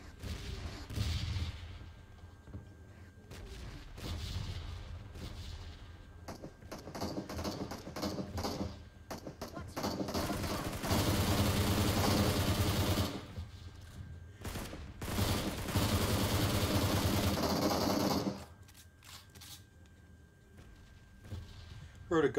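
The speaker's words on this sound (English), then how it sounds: "Heard a gunshot over this direction." Gunfire in the mobile battle-royale game PUBG Mobile, with bursts of rapid shots and heavier volleys rolling through most of the stretch, loud and dense, before easing off near the end.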